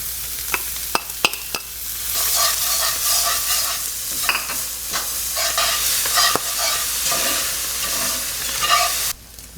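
Onions sautéing in a pan for pork lettuce wraps, a bright crackling sizzle that surges after a few sharp clacks as they drop in, then steady frying with intermittent spatula scrapes, close up and without speech.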